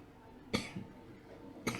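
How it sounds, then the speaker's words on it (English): Two sharp coughs, about a second apart, close and fairly loud, with a softer throat sound between them and no talking. "I'm starting to cough now because I worked too much yesterday."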